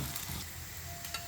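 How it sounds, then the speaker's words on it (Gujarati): Onion sautéing in a pan for a Punjabi-style karela curry gives a soft, steady sizzle with faint crackles, quiet and close, with no voices. "તો અહીંયા મેં ડુંગળી સાતળાવા મૂકી દીધી છે."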